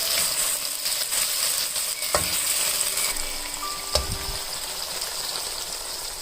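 Tofu sizzles steadily in a hot pan after a drizzle of starch slurry, a continuous close frying hiss broken by a couple of sharp pops and clinks from the spatula or pan.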